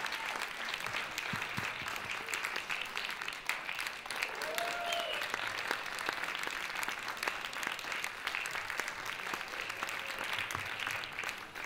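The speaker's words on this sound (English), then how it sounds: "A round of applause, ladies and gentlemen." Audience applause at a Sephardic choir's Hanukkah festival concert, sustained, even clapping from a seated crowd lasting over ten seconds, with faint voices rising now and then beneath it.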